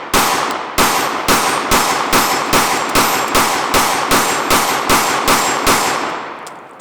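A Glock 44 pistol fires .22 rounds outdoors: about a dozen sharp, loud shots in a steady, evenly spaced sequence, each followed by a short ringing echo.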